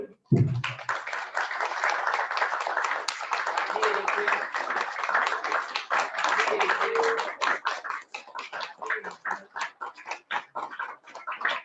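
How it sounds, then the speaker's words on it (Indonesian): An audience at a Maulid Nabi religious gathering claps loudly and continuously, the applause thinning into scattered individual claps toward the end, with a brief voice at the start. "coba tepuk tangan yang kenceng gitu ya"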